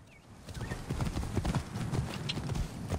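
Hooves of a horse ridden in Assassin's Creed Origins clip-clop in a steady, busy rhythm at close range, with faint game ambience and no speech.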